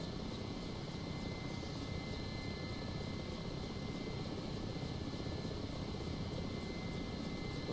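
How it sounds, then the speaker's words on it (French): Steady, loud rotor and turbine drone of a Mi-8 helicopter landing in a flight simulator game set at an oilfield, continuous and unchanging throughout with no talking. "Donc, on a eu notre checklist, donc moi je vais atterrir"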